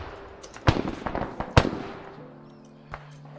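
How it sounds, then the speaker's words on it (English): Mortars fire in ArmA 3 as a few sharp, distant booming thumps spaced out over a low steady hum, with smaller pops and crackles between them. "Mortars are firing."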